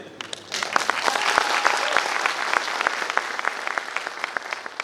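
A Dibrugarh audience at a speech event gives Dipendra sir a burst of applause that rises quickly and stays full, with sharp individual claps standing out through the crowd.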